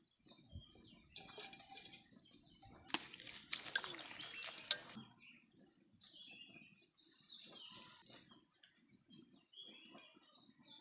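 Segna bua being rinsed by hand in water during tribal village cooking: faint splashing and sloshing with a few brief louder swishes, plus light clinks of a pot, quiet and close.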